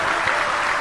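Audience applause at a Bhagwat katha, a Hindu religious discourse gathering: a brief burst of dense, steady clapping from many hands, close and loud throughout.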